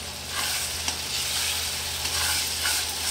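Green peas stirred into spices frying in a pan for a cauliflower and pea keema, giving a steady close sizzle with soft scraping from the spoon throughout, and no talking.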